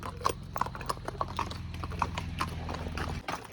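A horse walking downhill on a long ride, its hooves clip-clopping in a steady close rhythm over a low rumbling background, with no talk.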